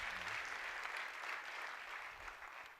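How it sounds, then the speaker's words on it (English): Sustained applause from an audience at a Petoskey Chamber of Commerce State of the Community event, a dense, steady patter of many hands clapping that fills the whole moment and tapers slightly toward the end. "give her a round of applause"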